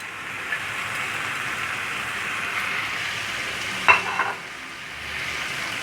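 Minced beef egg fry with chopped spring onions stirred in a pan over low heat, a steady gentle sizzle with a brief burst of spatula scraping near the end.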